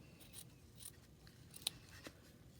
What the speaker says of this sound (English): I've already made my bow, so then I can trim it